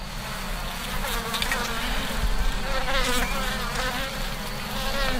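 Honeybees buzz steadily at an open hive brimming with workers during a heavy nectar flow, a dense continuous drone of many wings close by with no voices.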